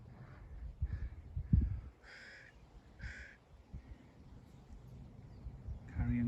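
A carrion crow caws out in open fields near a dried-up moorhen pond, a few harsh calls from middle distance spaced across several seconds over rustling outdoor background.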